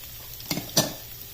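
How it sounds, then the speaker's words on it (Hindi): Capsicum pieces drop into a hot pan where garlic and ginger are already frying, giving two quick clattering hits with a brief sizzle over a quiet kitchen background. "लहसुन और अदरक को मैंने 1 से 2 मिनट तक फ्राई होने दिया है"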